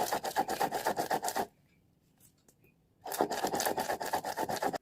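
White mustard seed, turmeric and ginger are ground into a paste on a stone, a rhythmic gritty rasping of back-and-forth strokes that pauses briefly and then resumes, close and loud.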